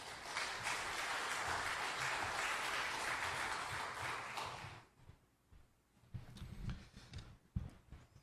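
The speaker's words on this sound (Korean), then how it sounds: "큰 박수로 모시도록 하겠습니다." Audience applause welcoming a debate moderator at a church assembly candidates' public hearing, steady clapping for about five seconds that cuts off into quieter room noise with scattered sounds.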